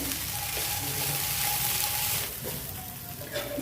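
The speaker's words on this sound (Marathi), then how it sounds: "एक साईडने भाजून झाल्यानंतर आपण दुसऱ्या साईडने देखील अशी आंबोळी भाजून घ्यायची आहे" A poha and rava amboli pancake roasts on a hot pan, giving a steady, close sizzle that eases slightly partway through, with no voices.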